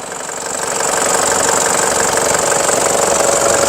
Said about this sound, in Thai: อ่าสตาร์ทเครื่องแล้ว